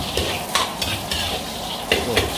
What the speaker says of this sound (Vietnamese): mỡ đà điểu rán thịt đà điểu nhá